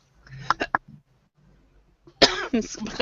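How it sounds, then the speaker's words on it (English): A few quick, sharp coughs sound close to the microphone, then a person starts talking after a brief pause. "Pardon me, I was just coughing."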